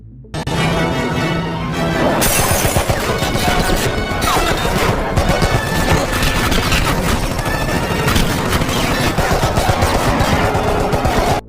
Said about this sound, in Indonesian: mereka langsung menghujani mobil John dengan tembakan beruntun.